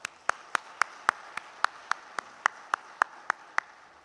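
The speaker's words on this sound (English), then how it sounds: "So a big round of applause to all of us." Slow, evenly spaced claps at a coconut industry awards ceremony in Sri Lanka: about fourteen sharp, distinct hand claps in a steady rhythm over a quiet room, sounding like a single person or a small, synchronized group rather than full applause.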